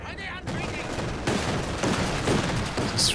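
Dense, continuous machine gun fire from a quad vehicle in Company of Heroes 2, a fairly quiet, steady rattle lasting about three seconds with faint voices underneath.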